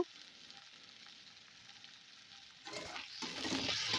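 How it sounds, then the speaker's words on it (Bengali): Salt, turmeric, chili and cumin powder fry in a pan for a fish curry, a quiet steady sizzle that grows louder and busier partway through as the spices are stirred, with no voices. "ভালোভাবে নেড়ে চেড়ে বেশ কিছুক্ষণ ধরে মশলাটা কষিয়ে নেব, যতক্ষণ না মশলা থেকে তেল ছেড়ে আসে।"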